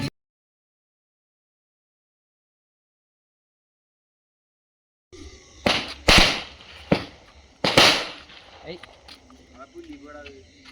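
Firecrackers burst during a New Year celebration, a few loud sharp cracks close by after a stretch of silence, then fainter scattered pops and crackle.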